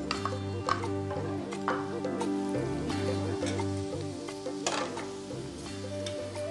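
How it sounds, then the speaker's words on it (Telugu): Mushrooms go into a hot pan and sizzle with a steady frying hiss, while clinks and scrapes of stirring sound close by over a background hum. "ఇప్పుడు పుట్టగొడుగులు వేస్తున్నాను"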